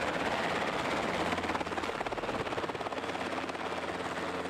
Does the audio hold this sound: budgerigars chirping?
no